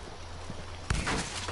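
Horse hooves clip-clop in Red Dead Redemption 2 Online, a soft rhythmic walking patter under a steady low hum, followed by a louder burst of noisy game sound near the end.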